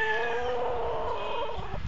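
A farm chicken clucks with steady harmonic calls that are close and fairly loud, over a constant background hum, with a short rustle near the end.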